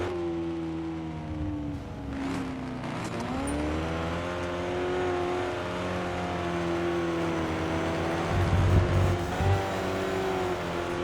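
Supercharged race car engine in the RevHead video game, a steady revving drone with harmonic pitch sweeping up and down through the gears, a brief tire scrub near the end, alone without talk.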